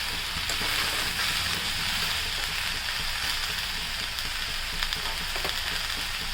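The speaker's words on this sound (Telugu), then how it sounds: "వేగుతుంది ఇది." Eggplant, ridge gourd and other vegetables fry for a paneer mixed curry, giving a continuous, even sizzling hiss that stays steady throughout with small crackles.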